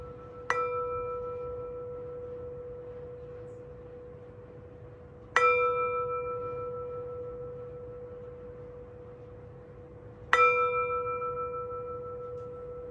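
A meditation bell is struck three times at even intervals of about five seconds, each strike a clear bright ring that slowly fades into a quiet room.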